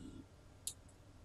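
A single faint, sharp click from a computer mouse button, brief and alone in quiet surroundings.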